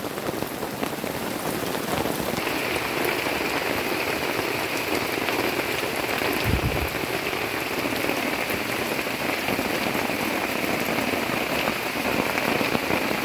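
Heavy rain pours down in a forest without a break, a dense, loud hiss of drops hitting leaves and surfaces, with a low thump midway through.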